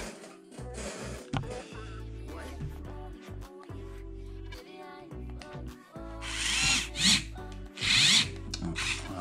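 A power drill drives screws into parts of a Traxxas TRX4 Sport kit during assembly, with several short whirring bursts, louder ones near the end, and someone talking between them.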